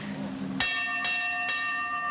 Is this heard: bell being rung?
yes